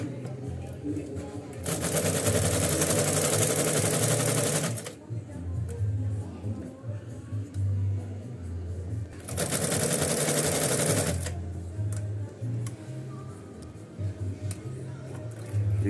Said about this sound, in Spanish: Y ahora vamos a hacer el zigzag.